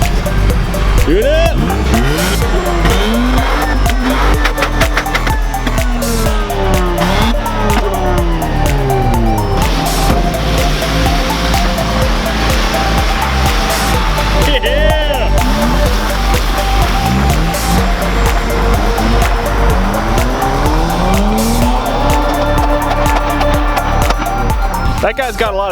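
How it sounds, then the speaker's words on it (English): A Mazda RX-8 does donuts in the snow, its engine revving loudly up and down in repeated swells with tire noise, while people talk and shout nearby. "That guy's got a lot of faith in his RX-8. He's bringing it out in the middle of the snow, just hucking donuts."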